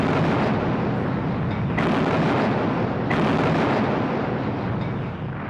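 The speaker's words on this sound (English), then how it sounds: "So the British opened fire on their former allies." Royal Navy warships firing on a French fleet, heavy naval gunfire and explosions in a loud continuous roar, with fresh booming blasts landing in sequence.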